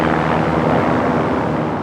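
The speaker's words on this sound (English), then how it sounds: "Nazi bombers attempt to smash the Armada," Nazi bomber aircraft engines roar in a D-Day newsreel over the invasion armada, a loud, steady, dense drone that fills the whole moment without a break.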